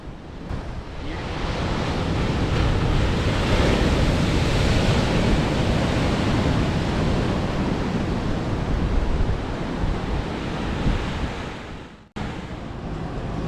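Ocean surf rolls steadily onto the shore at Pacific Beach, California, a loud continuous wash of breaking waves with some wind, easing briefly near the end before resuming.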